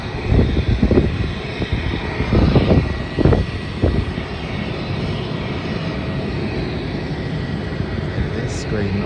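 Virgin Australia Boeing 737 departing for Launceston, a broad jet roar heard at a distance, with a voice talking over it early on before the engine noise carries on alone.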